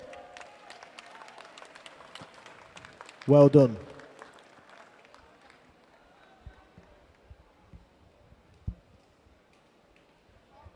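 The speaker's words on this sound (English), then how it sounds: "And let's cheer for Grace as she comes in this last bit." A crowd at a county qualifier race cheers and applauds a runner named Grace coming in on the last stretch, with a short loud burst of clapping and cheering amid quieter background noise while a commentator talks.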